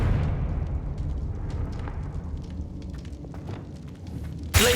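A Confringo blasting curse explodes in Hogwarts Legacy, a low rumbling blast bed with scattered crackles, ending in a sudden loud burst right at the close.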